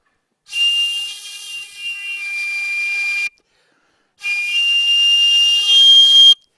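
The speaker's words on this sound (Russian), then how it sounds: "Вот дуешь, она свистит, воздух хорошо проходит к ним." Two long, shrill whistle blasts from a handmade Chuvash reed pipe (svirel), each about three seconds with a short silent gap between, close and loud.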